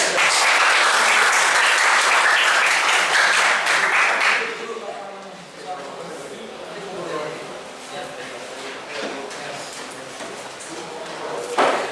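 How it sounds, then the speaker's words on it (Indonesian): A classroom group claps for a student, a dense burst of applause for about four seconds that then gives way to quieter talk and scattered room noises. "Oke, tepuk tangan buat kamu."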